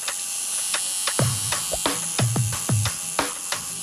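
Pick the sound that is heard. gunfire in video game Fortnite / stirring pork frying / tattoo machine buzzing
tattoo machine buzzing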